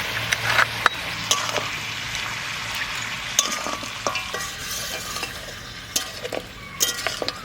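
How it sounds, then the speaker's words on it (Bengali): Turmeric, garlic and ginger hissing in hot oil in a pan as they are stirred, a close, steady sizzle broken by sharp clinks and scrapes of a utensil against the metal, with no talking. "হলুদ দিচ্ছি, রসুনটা আর আদাটা"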